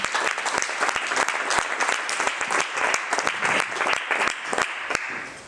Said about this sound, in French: Vous pouvez l'applaudir chaleureusement